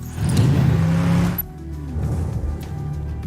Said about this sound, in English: when you add the rest of the sounds for the car